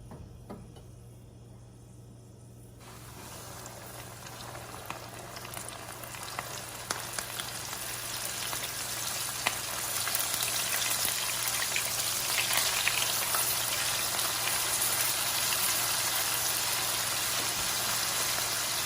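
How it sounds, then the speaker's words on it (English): Flour hits hot frying oil, which sizzles and crackles steadily, the frying noise swelling louder after a few seconds and continuing as a dense, close hiss. "You see that sizzle?"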